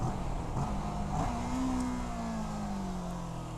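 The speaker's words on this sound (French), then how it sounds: "j'ai mis un coup de gaz à chaque fois que je débrayais" A motorcycle is downshifted in the old-school style with a throttle blip at each clutch pull, its engine revving up and then settling into a falling drone, close and steady with no talk.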